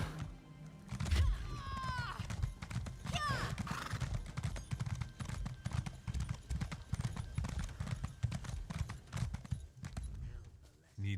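Rhythmic horse hooves clip-clop steadily at a brisk pace in The Elder Scrolls Online, with a short whinny near the start and background game sounds throughout.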